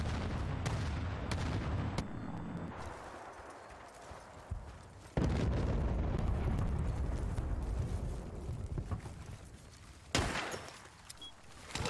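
Enemy artillery fire in Battlefield: Bad Company on PS3, a series of heavy booming blasts and rumbling impacts scattered through the stretch, some loud and near with sharp onsets, others dull and distant, with no talk.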